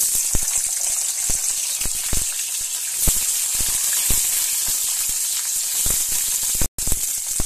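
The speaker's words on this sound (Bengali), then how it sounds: "তেল দিচ্ছি বেশি করে, আর ক্যাপসিকামটা ভেজে নিচ্ছি" Capsicum fries in plenty of oil in a wok, giving a steady, loud hiss of sizzling with scattered crackles and pops close by, running continuously with no talk.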